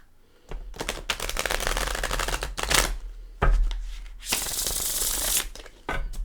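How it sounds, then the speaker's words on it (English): Tarot cards shuffled in several quick riffling bursts, each a crisp, rapid fluttering patter with short pauses between, close up and fairly loud. "Let's give them some shuffles now."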